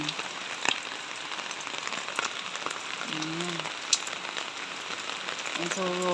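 Rain from an approaching typhoon keeps up a steady, even hiss with occasional sharper drips, while a person speaks briefly in short phrases.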